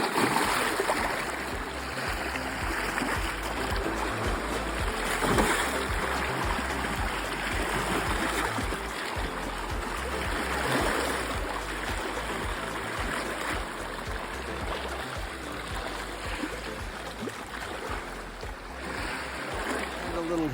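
Lake Superior water laps and burbles at the shore where hikers soak their feet, a continuous near trickling and splashing wash with small irregular splashes, under a low murmur of voices in the background.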